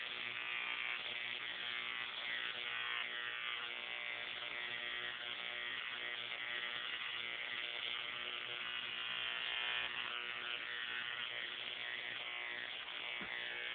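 A homemade Jacob's ladder fed by an ignition coil on a dimmer sends up a steady, loud buzzing, crackling electric arc that runs unbroken with no voices.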